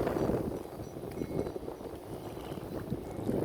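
Strong wind buffets a boat travelling upstream on a river against the current during the cool season, a steady dense roar with gusty surges and no talking.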